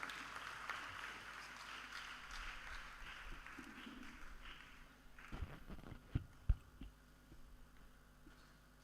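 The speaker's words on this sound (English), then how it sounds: "Please keep on clapping until he gets here." Sustained applause from an audience at a mental health summit welcomes Professor Adetunji Kehinde as he walks to the stage, a steady dense wash of claps that thins out near the end, where a few louder knocks and thumps stand out.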